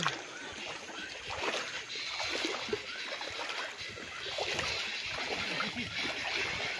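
Feet wading across a river beside a farm lot in Calauan, Laguna make soft, uneven sloshes and splashes of moving water, faint and continuous throughout.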